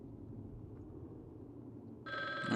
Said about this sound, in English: And the phone is ringing.